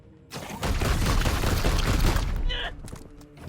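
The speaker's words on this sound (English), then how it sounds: "This new side cannon does so much damage." A side cannon fires in a Warhammer 40K video game, a dense, heavy barrage of blasts sustained for about two seconds before tapering off into lighter mechanical clatter.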